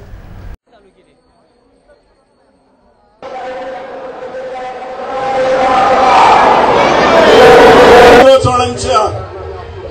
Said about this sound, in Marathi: पुसेगाव येथील श्री सेवागिरी महाराजांचा रथोत्सव सुरू झालाय यासाठी लाखो भाविकांनी येथे गर्दी केली आहे